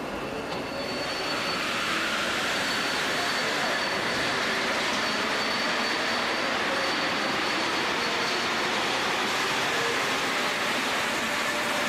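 A steady, loud rumbling roar of a train arriving at a Paris station fills the whole stretch, a constant broadband wash with faint high tones riding on top, no voices.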